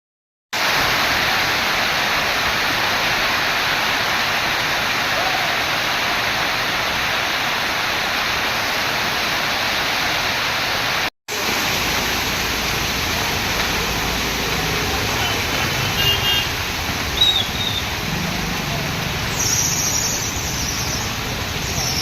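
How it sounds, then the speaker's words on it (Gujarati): Heavy rain pours steadily and loud over flooded city streets in Vadodara, a dense continuous roar with a brief cut midway and faint passing-vehicle noise toward the end. "થોડી જ ઘડીઓના વરસાદમાં અનેક વિસ્તારો પાણીમાં ગરકાવ થઈ ગયા"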